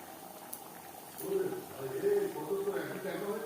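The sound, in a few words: fish curry gravy boiling in a pan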